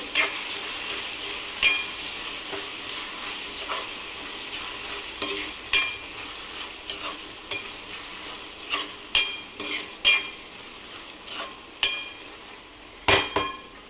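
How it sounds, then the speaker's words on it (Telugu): A spoon stirs thick tomato masala for village-style prawn curry in a pan, sizzling softly between repeated sharp scrapes and clacks against the metal, close and alone. "ఇట్లా అయినప్పుడు మనం కలుపుకోవాలండి, కొంచెం బాగా కలుపుకోవాలి."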